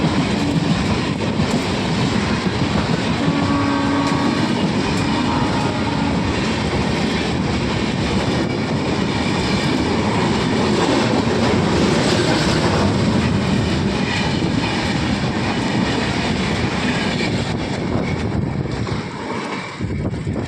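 Several trains pass and stand at a railway station, giving a continuous heavy rumble and rattle of rolling wagons with some wind buffeting. It stays loud throughout and eases slightly near the end, with no talk.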